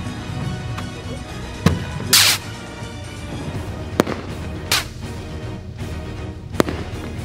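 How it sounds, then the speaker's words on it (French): Several firecrackers bang outdoors at night, a few sharp isolated cracks and one longer crackling burst spread over several seconds against a steady background hiss, with no talking. "ils ont trouvé des pétards, ils ont trop de chance"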